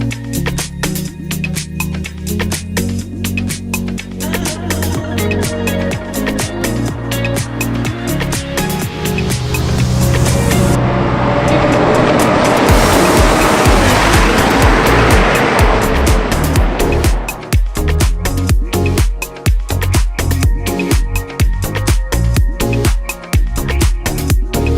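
McLaren Senna supercar driven hard, its engine roaring loud and close as it revs through the gears, swelling into a sustained high-revving howl in the middle before dropping back to rapid shifting and blips, with no talking.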